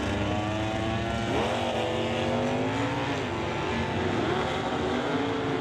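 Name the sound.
drag racing car launch, AAR Cuda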